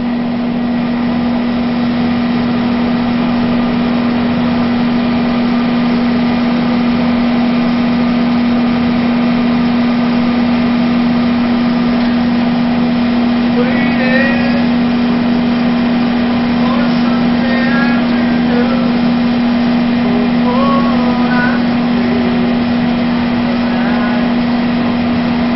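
A motorcycle engine runs steadily through a fuel consumption test with a fuel booster additive, giving a loud, constant drone with a strong hum that holds unchanged, and a few faint chirpy sounds drift in partway through.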